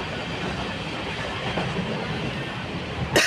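A passenger train on the Mumbai to Kankavli route rolls along the rails, heard from inside as a steady low rumble with soft rhythmic clatter and a sharp hiss at the very end.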